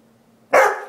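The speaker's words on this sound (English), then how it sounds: "You're so noisy. You're a noisy doggy." A Rhodesian ridgeback barks once indoors after a near-silent moment, a single sharp, loud, close bark that trails off quickly.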